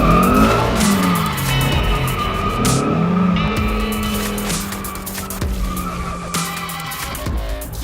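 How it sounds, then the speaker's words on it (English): A Shelby Mustang with a naturally aspirated Voodoo flat-plane-crank V8 of over 500 horsepower, driven hard with loud tire squeal and skidding over a steady, close engine roar, continuous throughout. "This is how you drive a Mustang 6 generation."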